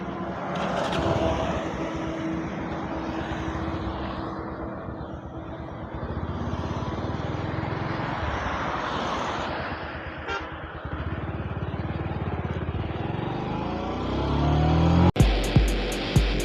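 A carburetor motorcycle engine runs steadily at idle for a long stretch, its rumble wavering slightly, then sputters and cuts out near the end, followed by a couple of sharp clicks.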